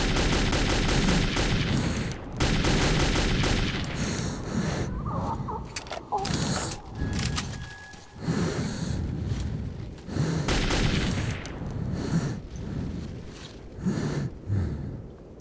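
Gunfire in the video game Metro 2033 crackles in repeated loud bursts and rapid volleys, broken by short pauses, with a player's voice talking between shots.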